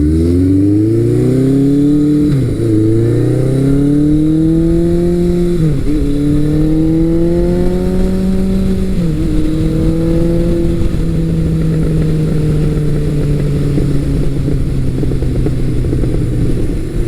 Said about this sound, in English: the full exhaust on this bike actually sounds better to me